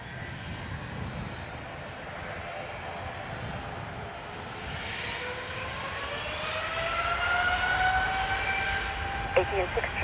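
A United Boeing 777-200 takes off from runway 10 right at Dublin Airport, a distant jet engine roar building steadily with a rising whine. Radio chatter runs faintly underneath.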